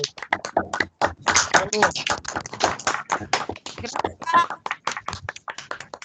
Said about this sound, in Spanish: Pues un aplauso, doctora.